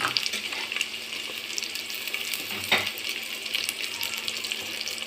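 Onions and curry leaves frying in a pan with a steady sizzle, a continuous bright hiss with faint stirring clatter and one short scrape midway.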